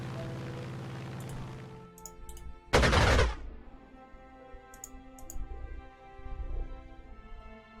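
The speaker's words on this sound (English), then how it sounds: "He's got artillery support." Artillery fire in the Panzer Corps strategy game: one loud, short booming blast that stands out against a steady music bed, with faint scattered clicks and a few soft low thumps following.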